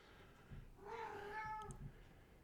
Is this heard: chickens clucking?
no